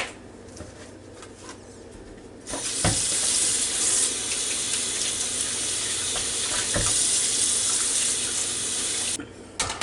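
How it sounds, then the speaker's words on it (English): Turkey legs are rinsed under a running kitchen tap, a loud steady gush of water into the sink that starts after a few quieter seconds and cuts off near the end. "So we're just going to wash these turkey legs right quick."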